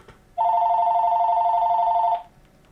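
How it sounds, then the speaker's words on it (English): A telephone rings once in a single sustained electronic tone lasting nearly two seconds, loud and close, with no voices over it. "I'm talking to you and then the phone rings."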